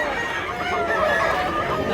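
Roosters crow amid a steady murmur of other fowl at a Mantalungon, Cebu chicken-buying stop, the drawn-out calls dense and continuous across two seconds with no clear talk.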